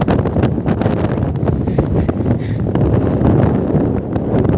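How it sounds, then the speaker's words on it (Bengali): Strong Kalbaishakhi storm wind sweeping over the Madhumati river, buffeting the microphone in heavy, irregular gusts with a deep rumbling roar and sharp blasts, loud and close, no speech. "এই পরিমাণ বাতাস, সব শিকারীরা উঠে গেছে, নদী সমুদ্রে পরিণত হয়েছে।"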